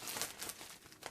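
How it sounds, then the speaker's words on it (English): Scissors snip through a paper card in a few quick, faint crinkling cuts close by, with no talking. "I'm going to cut this too so that I can show you the card"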